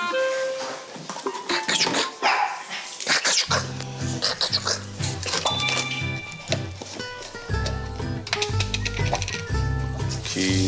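Small dogs, apparently papillons, bark in a household kitchen, giving repeated sharp yaps close by amid clattering and background noise.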